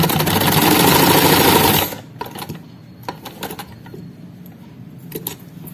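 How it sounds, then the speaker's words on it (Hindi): A sewing machine runs fast and loud while stitching a kameez strip, then stops abruptly, leaving a few faint clicks and small handling taps. "अब हम सिलाई लगाएंगे।"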